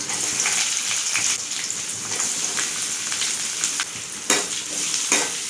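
Steady, dense sizzling of chopped onions frying in hot oil, crackling continuously with occasional louder pops, close up and without speech.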